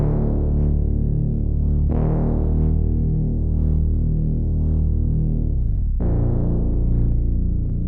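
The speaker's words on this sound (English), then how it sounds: "I'm adding in this new bass called Bass Grandmother from VM." Thick, dark synth bass patch called Bass Grandmother from VM, playing sustained root notes that glide down into each new pitch, with two clear slides between long held tones and nothing else playing.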